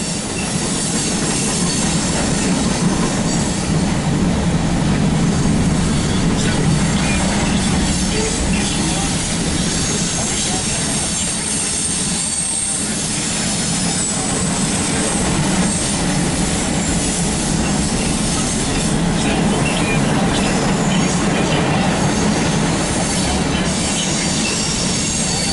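CSX mixed freight train led by an SD70 Max locomotive rolls past up close, with loud continuous wheel rumble, rail clatter and squeal sustained throughout.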